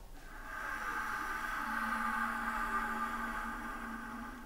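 A cello bowed on the side of a wooden mute makes a breathy, white-noise-like hiss with a faint pitched tone emerging partway through, sustained, quiet and close, with no voices.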